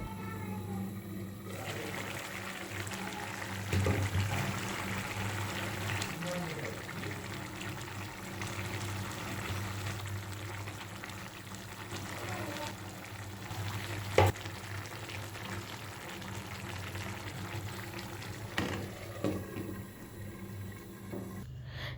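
A curry of small mola fish and potatoes simmers in gravy with a continuous low sizzle and bubbling. Occasional utensil clinks and stirring scrapes punctuate the sound over about twenty seconds.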